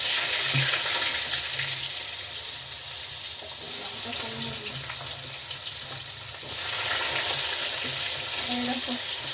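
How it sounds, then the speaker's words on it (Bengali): Radish fries in a wok with a loud, continuous hiss and crackle of hot oil, swelling and easing slightly over several seconds as it is stirred. "তারপরে এর মধ্যে একটা ভাজা ই করে দিয়ে ভাজতে দিয়ে মুলোটাও ভেজে নেবো"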